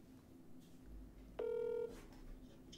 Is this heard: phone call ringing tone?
yes